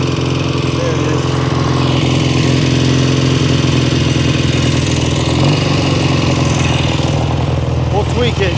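A 1967 Kawasaki W1 650 motorcycle engine running nearby, a loud steady rumble that holds throughout, with a voice speaking over it.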